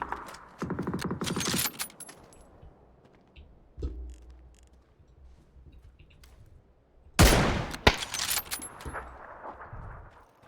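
Sharp gunshots crack out in PUBG, a rapid cluster early on, a single distant pop midway, then another close loud burst later, separated by quiet stretches with faint ambient noise.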